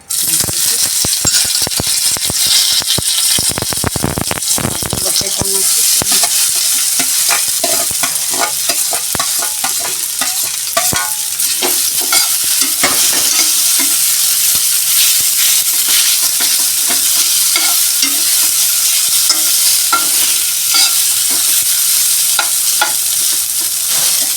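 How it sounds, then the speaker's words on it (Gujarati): Cumin seeds and curry leaves hit hot oil in a pan, giving a loud, steady crackling sizzle with a sharp burst near the start that settles into continuous frying spatter for the whole stretch. "તેલ ગરમ કરવા મૂક્યું છે તો હવે આપણે એમાં જીરું ને લીમડો"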